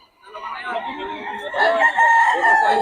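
A Boston Roundhead gamecock crows loudly and close at hand in one sustained call, with a voice speaking faintly around it.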